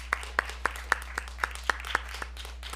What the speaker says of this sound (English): Let's get another round of applause for these